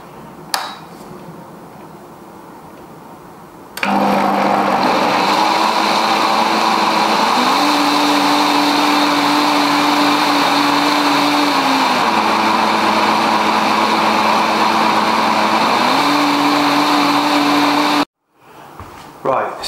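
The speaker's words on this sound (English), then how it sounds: "it's a good mixer because it allows me just to blitz it for the time I need" A blender blitzes roast cauliflower and parsnip soup, a loud steady motor whir holding for about fourteen seconds with its pitch stepping up and down as the speed changes, then cutting off sharply.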